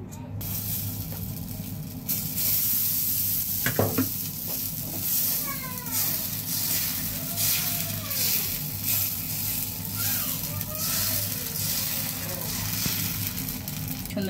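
Chitoi (chapti) pitha frying in a covered pan, a steady broadband sizzle that runs nearly the whole time, with a few soft clatters and a voice speaking over it.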